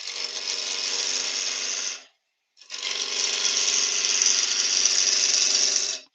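A wood lathe turns a tealight holder with a skew chisel, giving a steady whirring drone that cuts out briefly, then starts up again and runs on without talk.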